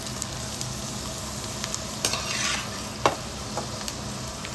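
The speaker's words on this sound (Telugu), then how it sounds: "నూనె వేడెక్కిన తర్వాత పల్లీలు వేసుకొని బాగా వేసుకోవాలి." Peanuts frying and being stirred in hot oil for mango pulihora, a dense steady sizzle broken by a few sharp spatula knocks and scrapes against the pan, close up with no talking.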